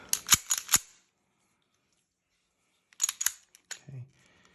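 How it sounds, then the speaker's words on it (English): A magazine drops from a West German SIG P228 pistol during a safety check, giving a few sharp, close metallic clicks and clunks, a silent pause, then another burst of clicks and a soft thud. "For safe, drop the mag."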